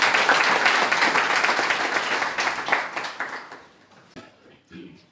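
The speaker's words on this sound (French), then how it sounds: "Est-ce qu'on peut applaudir pour ça et remercier?" An audience at a youth conference breaks into dense, steady applause that fades out over several seconds, with a little talk near the end.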